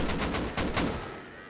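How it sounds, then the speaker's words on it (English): Rapid gunfire in the Rust survival game, several sharp shots in quick succession, loud and close, near a semi-automatic rifle and an M2 during a base raid, fading out toward the end. "Oh, we're shooting there."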